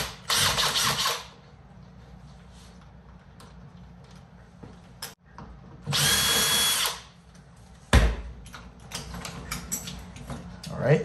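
A power drill backs out the screws of an old Kwikset doorknob, two loud bursts of whirring motor separated by quiet handling, then a sharp clunk and small rattles of the hardware.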